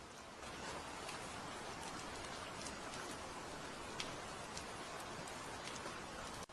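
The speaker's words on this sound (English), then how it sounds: "just deep shadow and the soft chorus of rain" Soft rain falls steadily at night outside a city sleep capsule, a faint, even hiss with scattered light drops throughout and no voices.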